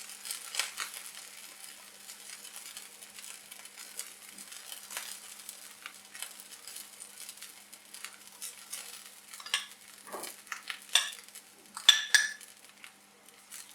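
Aloo paratha, a flaky potato-stuffed flatbread, sizzling softly on a pan after being flipped, a faint steady hiss broken by scattered clinks and scrapes of utensils, growing busier toward the end with no talking.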